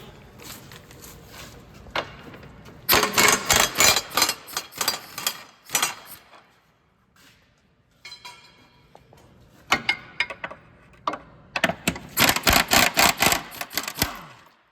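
A hand wrench working a 19 mm nut and bolt under a 2014 Kia Sorento with a 3.3L engine, giving bursts of rapid metallic ratchet clicking separated by pauses and small clanks, close up with no talking.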